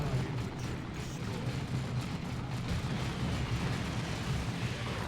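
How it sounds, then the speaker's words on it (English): Dense gunfire and combat effects from the video game Dawn of War 2 form a constant, fairly quiet rumbling barrage of shots and blasts with no clear gaps. "Gunfire is quite loud."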